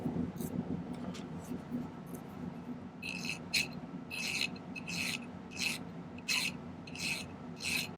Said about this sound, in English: we'll start off by filing the end flat